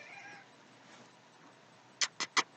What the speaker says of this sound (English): a cat, an emotional support cat